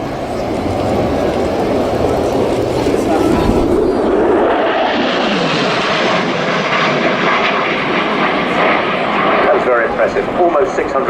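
A MiG-29 fighter jet of the Polish Air Force makes a high-speed pass at an airshow, a loud, roaring jet engine rising and sweeping past, with the roar broadening and persisting over a public-address announcer's voice.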